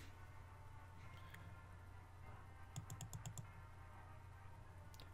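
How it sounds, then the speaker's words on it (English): Quiet burst of computer keyboard typing, a short run of rapid key clicks in the middle of an otherwise low room hum, with no talking. "I tried to reduce the clicking noise as much as possible"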